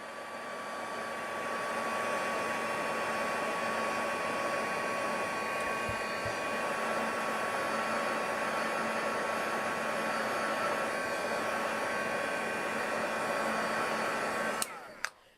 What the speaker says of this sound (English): Then we're going to dry it using the dryer.